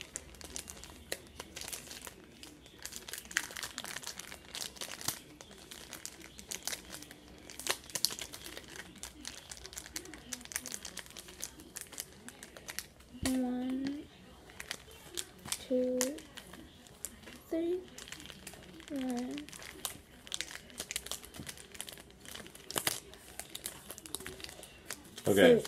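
Pokémon Sword and Shield booster pack wrappers crinkle and rustle close up, with sustained crackling and brief tearing bursts while a child and an adult talk.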